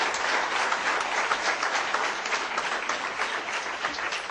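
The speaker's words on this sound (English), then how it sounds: "Bigger round of applause," Sustained applause from an audience at an international case study competition award ceremony, many hands clapping steadily and evenly throughout with no pauses.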